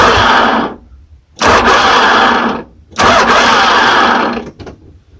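A 1995 Dodge Ram 2500's starter cranks the engine in three loud, steady bursts of whirring, separated by brief pauses and heard alone without any voice.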